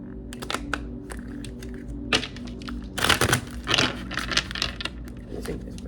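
Tarot cards are shuffled by hand, giving close, irregular riffling flutters and soft slaps and taps in short bursts over a quiet background, with no speech.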